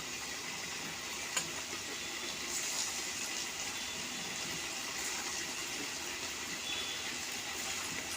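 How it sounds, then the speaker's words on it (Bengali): Chhana cottage cheese koftas fry in hot oil with a steady, dense sizzle and bubbling hiss that stays even throughout, close up with occasional small pops. "ছেনার কোপ্তাগুলো লাল লাল করে ভেজে নেব"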